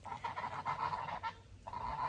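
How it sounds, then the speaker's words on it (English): Geese call repeatedly in a backyard garden, a rapid run of honking notes close by that pauses briefly before resuming. "There's the geese."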